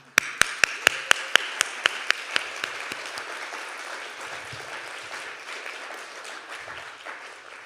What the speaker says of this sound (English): there's not enough clapping that we could do for her, but let's just go ahead and try